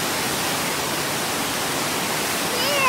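A swollen river rushes below a high vantage point after flooding, making a steady, dense broadband roar that stays even throughout and swells slightly at the end, with no voices.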